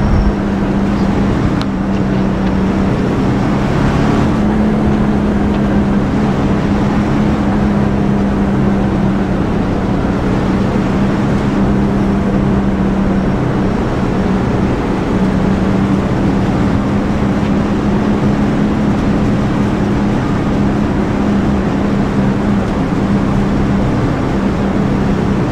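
A NASCAR Chevrolet race car engine in the iRacing sim at Watkins Glen drones steadily and loudly throughout, holding a constant low hum with little change in pitch for about half a minute.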